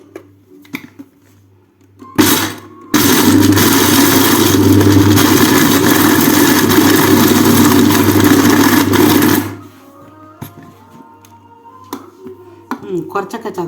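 A kitchen mixer grinder crushes dry fruits in a loud, dense whirring burst of several seconds, starting abruptly and cutting off cleanly, with brief clicks and sparse talk before and after.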